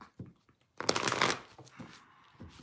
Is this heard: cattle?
no